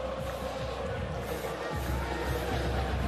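Florida State football crowd at a college game against LSU, a dense continuous roar of cheering voices filling the stadium, loud and steady throughout.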